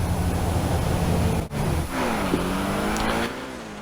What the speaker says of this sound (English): And now we're going to take it for a spin and see how this car handles.